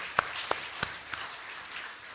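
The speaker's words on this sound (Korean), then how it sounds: "우리가 박수로 환영하겠습니다" A few sparse, faint hand claps from a church congregation welcoming new members during a service, coming as separate claps at roughly even intervals and fading out.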